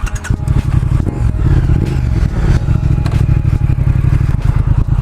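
A 2019 Triumph Speed Twin motorcycle engine roars loud and close while riding off, a steady throbbing growl with clattering mechanical texture and rising revs, with little pops at the end.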